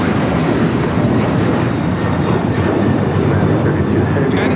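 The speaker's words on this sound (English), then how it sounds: "It's a 777 at 300ER touching down here on the south side" A Boeing 777-300ER touches down on the south side of LAX, its engines giving a loud, steady broadband roar that holds throughout, with a faint voice talking underneath.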